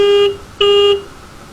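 Two short electronic horn beeps from an Ather 450X electric scooter, close and loud, a bright buzzy tone sounding twice with a brief gap between.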